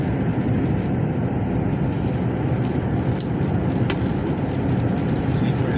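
A train rumbles past beside a high mountain road on route E16 in Norway, a steady, dense roar heard from inside a driving vehicle, with faint clicks over the continuous noise.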